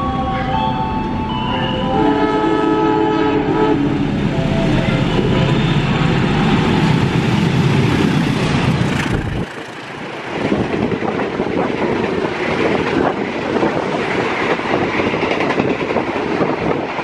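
Dharma Wangsa 165 passenger train passing on the line between Cibitung and Tambun stations in Indonesia, loud and close, with a long horn blast early on, then a dense rolling rumble and clatter of wheels and carriages.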